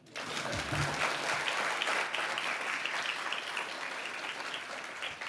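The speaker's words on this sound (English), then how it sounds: "You can clap." A crowd applauding steadily and loudly for several seconds at a foundation gift announcement, a dense wash of clapping with no voices standing out.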